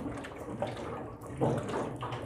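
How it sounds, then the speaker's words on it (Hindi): Water sloshes and gurgles as a large bottle is fitted onto a water dispenser, a continuous watery rushing with a couple of louder surges and soft knocks, close by. "मैंने पानी की बोतल इसके ऊपर लगा दी है"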